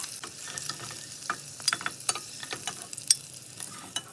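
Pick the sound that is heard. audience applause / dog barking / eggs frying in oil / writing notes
eggs frying in oil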